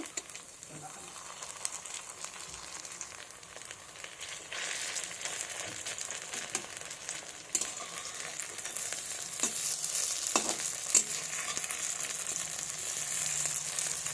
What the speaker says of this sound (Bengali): এগুলোকে আমি এবার ভালোভাবে ভেজে নেব লাল লাল করে